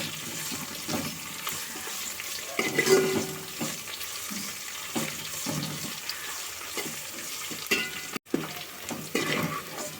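Onions and dried red chillies frying in a pan for village-style bottle gourd pulusu, a steady nearby sizzle with scraping and stirring sounds throughout.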